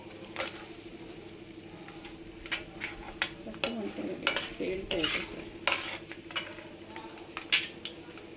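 Garlic frying in a pan while a metal spoon stirs and scrapes, giving irregular clinks and knocks over a faint sizzle, close and fairly quiet, during preparation of Indian gooseberry pickle.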